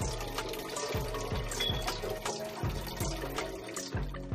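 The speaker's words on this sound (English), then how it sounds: "just pour all the water inside" Water poured from a measuring cup into a half-liter plastic bottle, a continuous close splashing and gurgling stream with rising pitch as the bottle fills, over a steady background.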